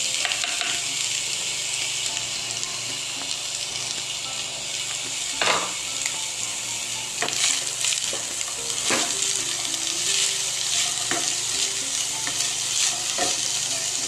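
Finely chopped capsicum sizzles steadily in a pan while being stirred for a chicken macaroni samosa filling, a constant close frying hiss broken by occasional scraping knocks of the spoon.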